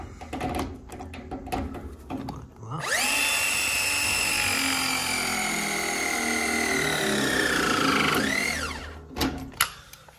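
A plumber's battery pipe press tool crimps a fitting onto an elbow, starting with a rising whine and then holding a steady loud motor drone for about five seconds before winding down, with handling clatter on either side.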